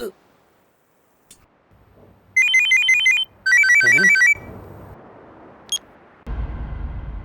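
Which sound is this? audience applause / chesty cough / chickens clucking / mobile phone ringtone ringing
mobile phone ringtone ringing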